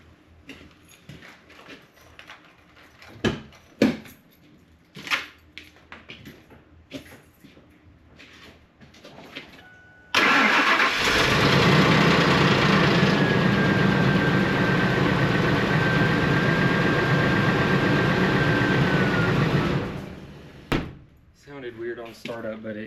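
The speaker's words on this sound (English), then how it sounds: "Sounded weird on startup, but it got to a decent idle." An Etenwolf Vortex S6 engine, suspected of bearing trouble, cranks and catches mid-clip, then holds a steady loud idle with a faint whine for about ten seconds before shutting off. Scattered clicks and handling noises come before and after it.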